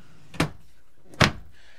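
Two solid wooden thuds about a second apart, a big deep drawer in a 2017 Open Range Light 272RLS travel trailer pushed shut twice, close and fairly loud in a quiet room.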